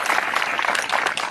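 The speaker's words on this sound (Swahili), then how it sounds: "Mjipigie makofi for staying in school" Students at a school gathering in Homa Bay clap for themselves in a loud, steady burst of crowd applause that fills the whole moment without a break.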